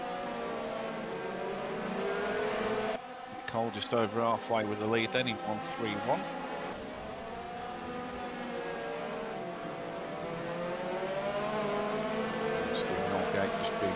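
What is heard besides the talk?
race cars driving in a sim racing video game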